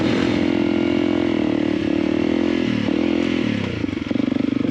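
A close single-cylinder dual-sport motorcycle engine, a Suzuki DR650 or Honda CRF300L Rally, runs loud and steady, its pitch dipping and rising as the throttle is worked, then settling into a pulsing idle.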